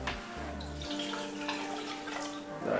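Coconut water pours from a container into a blender jar, a soft, steady liquid splash that runs the whole moment at low volume.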